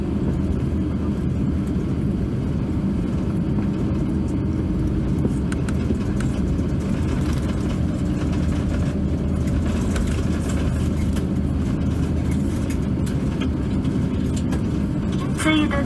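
Steady low cabin rumble inside a Qatar Airways Airbus A350-900 waiting for takeoff at London Heathrow, an even engine and air-system drone lasting throughout, with announcements and voices talking over it.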